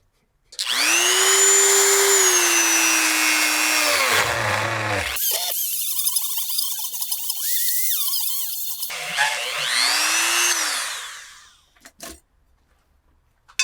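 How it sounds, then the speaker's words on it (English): A Dremel rotary tool runs in a garage while routing a cooling-system part for a Jaguar, a steady high whine that dips and changes pitch midway, then winds down to quiet near the end. "Fire up the Dremel!"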